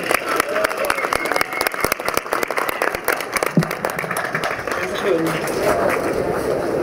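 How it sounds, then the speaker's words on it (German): Audience applause at an outdoor street demonstration in Munich, scattered claps from a crowd with sharp individual hits early on, mixed with crowd voices and talking over a continuous background hum. "Applaus, bitteschön."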